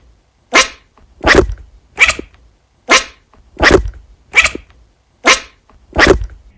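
Eight short, sharp bark-like calls from a cat barking like a dog sound close by, each one separate and evenly spaced, with brief silences between them and no talking.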